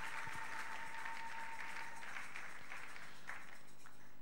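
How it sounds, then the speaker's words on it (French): A church congregation in a hall applauds steadily for the glory of God, a continuous wash of many clapping hands with faint voices mixed in. "Est-ce qu'on peut encore acclamer très fort pour la gloire de notre Dieu?"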